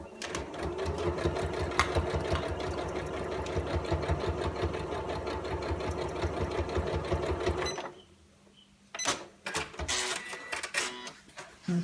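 Sewing machine stitching a dark fabric dust cover for a ScanNCut cutting machine, a steady rapid mechanical whir that runs for about eight seconds, stops briefly, then restarts in shorter bursts.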